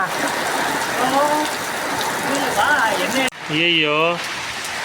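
Heavy rain pours down in a steady, dense hiss that fills the whole scene, with people talking and exclaiming close by over the downpour.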